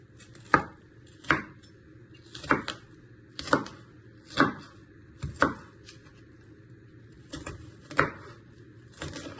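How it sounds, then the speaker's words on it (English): A knife cuts chicken into little pieces on a cutting board, eight sharp, evenly spaced chops that ring clearly against a quiet background. "Just give it one final chop."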